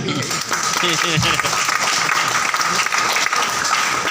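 Audience at an award and recognition seminar in Bathinda clapping, a steady, dense spread of hands that lasts throughout, with voices mixed in underneath.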